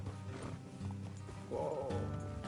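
Horses clip-clopping along a road in Red Dead Redemption 2, steady hoofbeats close by over low ambient game sound, with a brief whinny-like tone near the end.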